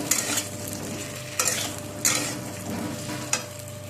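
A jujube pickle mixture with added salt is stirred in a hot pan, with a steady sizzle and several distinct scraping strokes against the pan, close and unaccompanied by speech.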